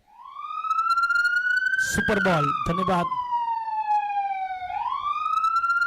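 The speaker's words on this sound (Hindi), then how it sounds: "सायरन बजाए डीजे मास्टर।" A loud electronic siren sound effect played by a DJ at a cricket match wails, sweeping up and down in pitch, while a voice briefly speaks over it in the middle.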